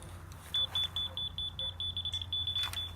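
A grade receiver beeps while checking surface height on a grading job, giving a rapid series of short, high electronic beeps over a low background hum outdoors.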